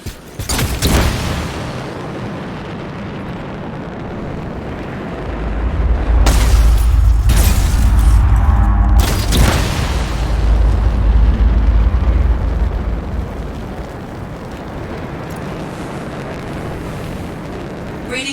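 A deep, rumbling explosion booms through a sci-fi action video game (Anthem), swelling into a loud, sustained low roar for several seconds before fading back into a dense background rumble.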